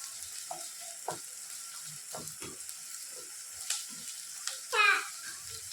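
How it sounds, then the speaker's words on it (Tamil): Onions sauté in a pan toward golden brown for a beef dish, a soft hiss punctuated by a few spoon knocks and scrapes, with a brief voice-like sound near the end. "ஆனியன் வந்து நல்லா கோல்டன் ப்ரௌனாக வர்ற வரைக்கும் வதக்கிக்கிட்டே இருக்கணும்"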